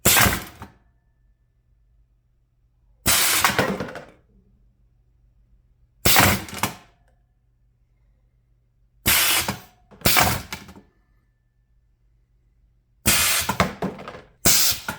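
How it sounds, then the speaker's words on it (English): Automatic pneumatic can crusher driven by an air compressor, giving sharp loud crunching bursts about every three seconds with near silence and a low hum between crushes. "Now that will continue to depress and to crush cans as long as there is air in the compressor."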